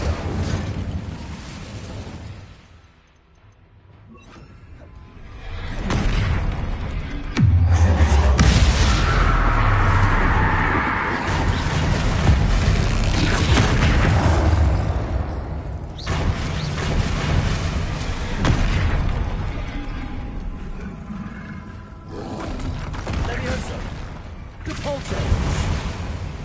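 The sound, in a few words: explosive spells cast in the video game Hogwarts Legacy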